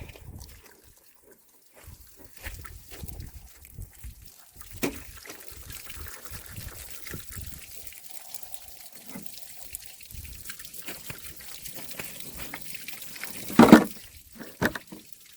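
Water pours and trickles out of a ballistic gel test jug after a .45 ACP bear-load shot, a faint, irregular dribble with a brief louder gush near the end, and no talk over it.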